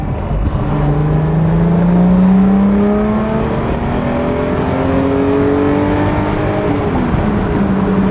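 A 1960s Mercedes-Benz W113 280SL Pagoda straight-six accelerates out of a bend on a road drive, engine note climbing smoothly through the revs in one long pull before easing near the end, heard from inside the car.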